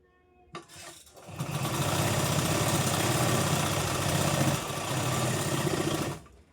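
A sewing machine stitches a blouse strip, starting after a few soft clicks into a loud, steady, close motor drone with fast needle chatter, briefly easing mid-run before stopping.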